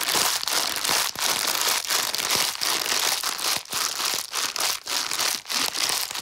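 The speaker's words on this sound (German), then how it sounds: "Du könntest jetzt noch mal eine der Plastiktüten da nehmen." A plastic bag crumpled by hand, heard close up as continuous loud crinkling, broken by sharper crackles roughly every half second, with no voices over it.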